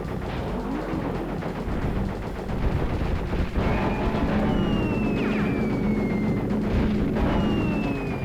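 Enemies in the video game Crash Bandicoot 3 fire rapid bursts of gunfire. The shots come loud and close over a busy game soundtrack, with sharp zipping laser-like streaks in the second half.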